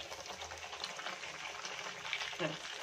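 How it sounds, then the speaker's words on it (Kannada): Sajjaka holige, a North Karnataka stuffed flatbread, deep-frying in hot oil: a soft, steady sizzle and bubbling that carries on throughout at low volume, with a brief clink near the end and no one talking. "ಇದೇ ತರ ಎರಡು ಬದಿ ಚೆನ್ನಾಗಿ ಫ್ರೈ ಮಾಡ್ಕೋಬೇಕು."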